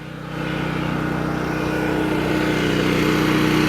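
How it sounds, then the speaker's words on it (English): A generator running steadily at a haunted forest attraction: a continuous, fairly loud engine hum with a fine rhythmic putter, rising slightly at the start and then holding constant. "Obviously the sound you hear there is the generator."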